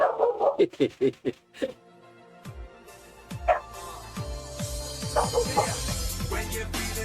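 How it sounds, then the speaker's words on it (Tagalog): A dog barks in a rapid burst of sharp, close barks, then yips and whimpers more sparsely beside a tennis match, with crowd and court noise filling the background. "Ayan nga yung aso."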